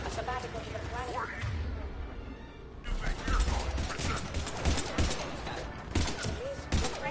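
Gunfire and combat impacts from Mass Effect 3 crack repeatedly over a busy game soundscape, with voices talking throughout and a denser burst of shots in the second half.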